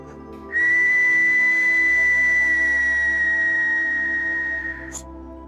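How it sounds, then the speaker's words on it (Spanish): A single sustained, piercing whistle note from a stone whistle holds steady for about four seconds, loud and close, then stops abruptly. "este es un silbato de piedra"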